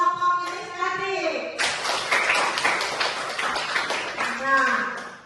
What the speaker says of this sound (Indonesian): Tepuk tangan untuk kelompok inisiatif.